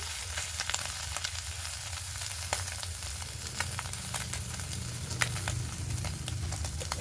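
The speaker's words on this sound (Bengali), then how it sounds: "মাছগুলোকে ভালো করে ভেজে নেব" Catfish (magur) pieces fry in oil with a dense, even crackling sizzle heard close and unbroken, dotted with occasional sharper pops and faint stirring.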